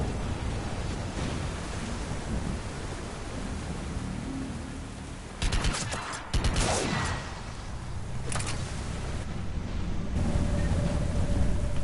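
Gunfire in Mass Effect: Legendary Edition, scattered bursts of shots crackling over a constant roaring, rain-like ambient wash, with a cluster of louder shots midway.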